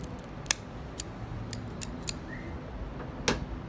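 A cutter snipping a Ventura Archetype Initiation cigar, heard as a series of small sharp clicks spaced through a quiet room, ending in one louder snap.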